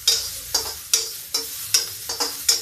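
Finely chopped onion frying with bay leaf, cloves and black pepper for a dry cluster bean dish, about seven sharp scraping stirs in a quick uneven rhythm over a soft sizzle, close up, no talk.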